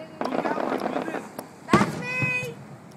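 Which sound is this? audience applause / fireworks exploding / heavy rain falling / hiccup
fireworks exploding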